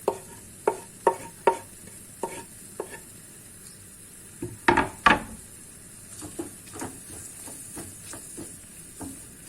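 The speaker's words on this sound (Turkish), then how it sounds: "Pembeleşinceye kadar kavuruyoruz." Minced garlic from a couple of cloves sautés in a pan, with several sharp sizzling bursts and stirring scrapes in uneven rhythm, close and fairly loud, with no one speaking.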